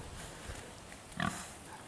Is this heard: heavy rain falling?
no